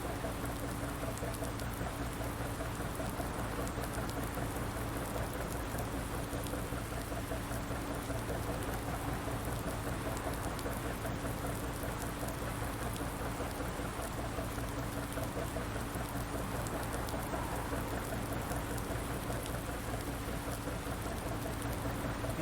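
Rain in the farming video game Farming Simulator 19 with the Seasons setting, a steady, even hiss of falling rain that stays constant and fairly faint throughout, with no voices.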